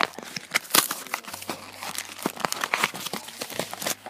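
Amiibo card pack packaging being torn open, with close crinkling and ripping of plastic wrap in irregular bursts, loudest near the start, with no talking.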